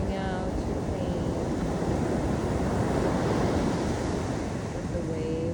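Ocean waves breaking on the beach at Playa Negra, Costa Rica, a continuous, broad wash of surf with wind rumbling on the microphone, and a voice faintly audible over it now and then.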